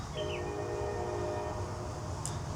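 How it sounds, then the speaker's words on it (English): A Metra Heritage Corridor commuter train idles, stopped at the station in downtown Lemont, with a steady low rumble and hum, a short horn-like tone sounding near the start, and a brief high squeal later. "Metra Heritage Corridor train making its stop for commuters in downtown Lemont"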